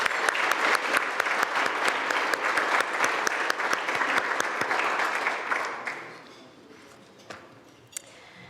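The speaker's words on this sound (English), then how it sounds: "Please do join me in a round of applause for all our sponsors." Dinner audience at a law school alumni and faculty homecoming dinner applauding the sponsors, dense steady clapping for about six seconds before thinning out to a few scattered last claps.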